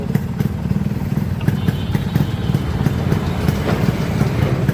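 A Yamaha RX 100 motorcycle's two-stroke engine idles close by, a steady loud buzzing rumble with a fast rhythmic putter that never lets up for the whole stretch.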